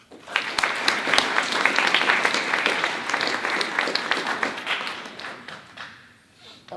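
Applause from a debate audience at UC Berkeley as a speaker is introduced, dense clapping that holds steady for several seconds with a few sharp claps standing out, then fades near the end.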